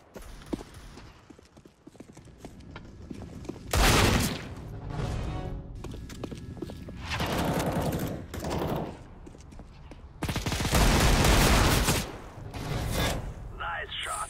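Gunfire in the CS:GO video game comes in loud, separate bursts: a short volley around the fourth second, softer shots between, then a longer heavy burst near the end.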